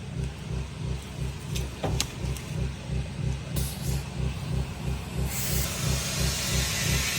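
Air hisses steadily into the front tire of a 1967 Ford that has sat for 28 years, a pulsing compressor rumble running beneath it and the hiss swelling louder near the end.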